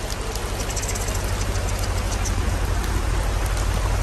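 Steady rain pouring down outdoors, a dense continuous hiss with a low rumbling undertone throughout and no voices.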